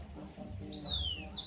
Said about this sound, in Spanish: Pájaros, presencia.